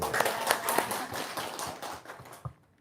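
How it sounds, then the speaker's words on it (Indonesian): An audience in a private gathering claps hands in a brief, moderately close burst of scattered applause that fades out toward the end, with faint voices mixed in. "Tepuk tangan dulu dong"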